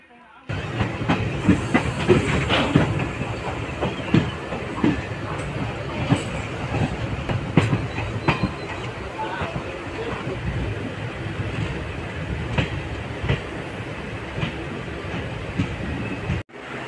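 A MEMU passenger train on the Tambaram-Villupuram line rumbles along the rails in a steady, loud roar, with rhythmic clatter and occasional sharp clicks from the wheels.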